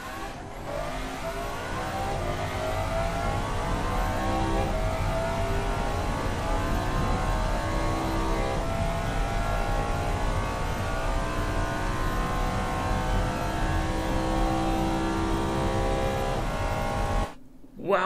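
A 2006 V12 twin-turbo hypercar engine in a video game revs hard and accelerates, its tone climbing steadily and loudly for a long, unbroken pull before cutting off abruptly at the end.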